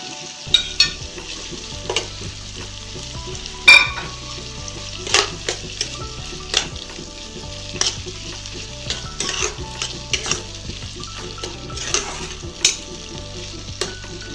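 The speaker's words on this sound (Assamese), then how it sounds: "এতিয়া মই তাত বিলাহী খিনি আৰু লং দালচেনি খিনি দি দিম" Tomatoes, cloves and cinnamon sizzle in a frying pan of ginger-garlic paste and bay leaves for chicken roast, with steady frying crackle and repeated sharp scrapes and clinks of a spoon stirring against the pan.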